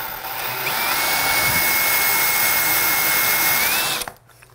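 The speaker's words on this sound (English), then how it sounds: "We're just gonna go low speed on the drill, and this should grind through that tile just with ease." A power drill fitted with a glass and tile bit grinds through bathroom tile at low speed, a steady close whine with a sustained tone lasting about four seconds before stopping abruptly.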